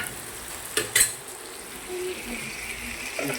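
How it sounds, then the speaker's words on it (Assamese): Chicken and potatoes fry over a medium flame in a pan, giving a soft steady sizzle with a couple of sharp scraping stirs early on and faint clinks later. "ভাজি আছোঁ"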